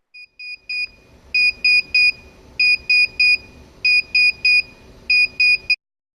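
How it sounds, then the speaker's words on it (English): An Arduino-driven piezo buzzer beeps out an alarm clock pattern: short bursts of two or three shrill tones, then pauses, repeated over and over, close and clear above a low background hum. "the next lines of code that you see create a pattern very similar to a alarm clock"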